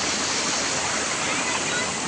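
River water at Jatashankar near Junagadh flows with a steady, dense broadband rush, loud and continuous throughout with no pauses.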